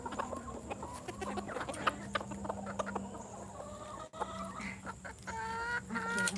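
Backyard laying hens cluck and murmur close by in a rural Georgia coop, a busy stream of short repeated clucks with a few higher calls toward the end, heard on their own with no talking.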